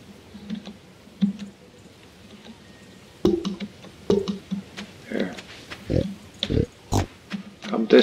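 A pig oinks in the Stardew Valley farming video game, with short grunting snorts and clicky game sounds scattered across the stretch, some louder bursts toward the end.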